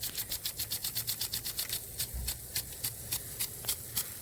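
Rain Bird 35 Series impact sprinkler on a residential system running its big nozzle at under 20 PSI, reversing with a rapid, even train of sharp ticks, about five to six per second and close by, with no voices.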